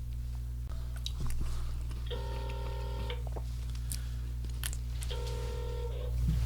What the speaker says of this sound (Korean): 전화 연결 한번 해보려고 합니다